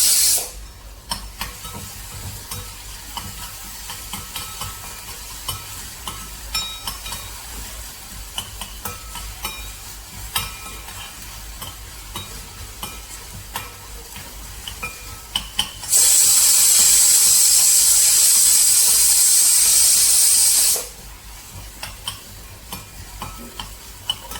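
Onions with a pinch of salt frying in a pan, a soft steady sizzle with occasional stirring clicks, then a louder hissing burst for several seconds before settling back.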